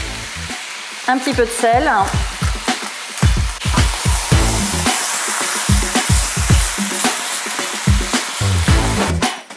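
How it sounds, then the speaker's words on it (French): Poultry searing in oil in a De Buyer wok gives a loud, steady sizzle near at hand, broken by bursts of stirring and scraping, while a person talks briefly over the cooking. "On va rajouter notre volaille et on va laisser saisir."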